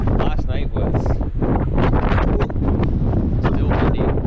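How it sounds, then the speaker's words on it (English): Strong wind in Nova Scotia buffets the microphone with a constant roaring rumble, while a person talks over it throughout. "very windy day here in Nova Scotia."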